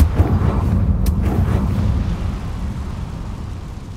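Confringo blasting spell in Hogwarts Legacy, a loud, deep explosive boom at the start followed by a rumbling roar and debris that slowly fades over several seconds.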